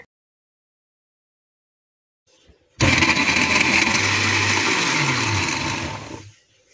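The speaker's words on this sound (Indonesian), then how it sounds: "semuanya ini di blender" Kitchen blender grinding shallots, garlic and curly red chilies into a paste, switched on abruptly with a steady loud whir that holds for several seconds before winding down, with no talking.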